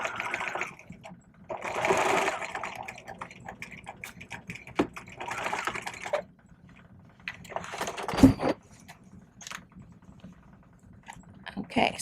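Sewing machine stitching fabric for a welt pocket on a vest, running in short bursts of rapid mechanical ticking separated by pauses, close and moderately loud.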